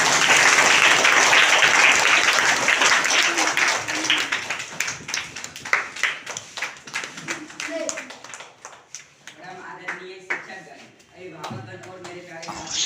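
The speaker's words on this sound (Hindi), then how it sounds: "दिलकृष्ण कुमार का स्वागत किया जाए जोरदार तालियों का।" Loud, sustained applause from a crowd at a school Teacher's Day speech event, with dense clapping that gradually thins into scattered individual claps and fades toward the end.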